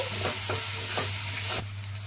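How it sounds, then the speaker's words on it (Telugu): Finely chopped tomato pieces sizzle steadily in a hot pan for bitter gourd curry, with several soft scraping stirs of a spoon over the constant frying hiss. "టమాటా ముక్కలు వేసుకుందాం. ఈ టమాటా ముక్కలు సన్నగా కట్ చేసాం కదండి, తొందరగా మగ్గిపోతాయి."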